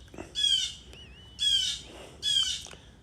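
Blackbirds scream harsh warning calls outdoors in a neighborhood, three loud squawking bursts in even rhythm about a second apart, with a faint tonal whistle between them.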